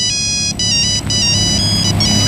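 A mobile phone rings with an incoming call, a loud, steady melodic ringtone that repeats its bright pattern several times with brief dips between phrases, no voices over it.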